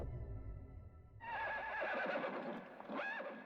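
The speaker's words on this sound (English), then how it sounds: "Don't know why there are horse sounds." Horse neighing and whinnying in the PS2 game BLOOD+ One Night Kiss, a loud rising whinny starting partway through over low rumbling ambience, with a second shorter whinny near the end.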